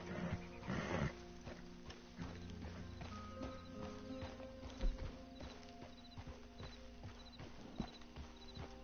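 Horse hooves clip-clopping in Red Dead Redemption 2 online, a tired horse walking at a steady uneven gait, with a snort or whinny early on, soft mechanical clinks and faint ambient tones.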